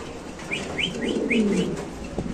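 Large white king pigeons at a bird market give a run of soft, repeated coos and short chirps, fairly close and steady against a low murmur of market background noise.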